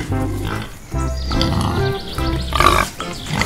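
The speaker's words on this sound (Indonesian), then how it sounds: "Ayo turun babi-babi." Pigs grunting as they are unloaded on arrival at a farm, a loud steady run of low grunts and oinks filling the whole stretch with a few brief pauses.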